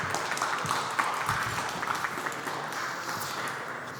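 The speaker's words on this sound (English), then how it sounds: "Please give a round of applause and welcome the gentleman on stage." Audience applause greets guests coming on stage at a transport infrastructure innovation expo panel, a steady moderate patter of clapping throughout with a faint voice underneath.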